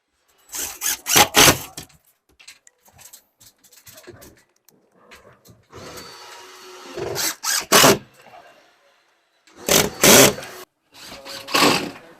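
A power drill driving screws through drywall sheetrock into studs, several short loud whirring bursts separated by pauses, with faint background noise between them.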